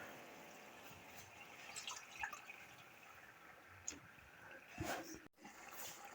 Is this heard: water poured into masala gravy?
yes